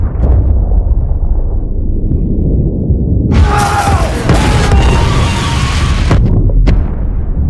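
A massive secondary explosion aboard the Kursk submarine in a film scene, a sustained loud roaring blast that swells, then cuts off abruptly with a final sharp burst.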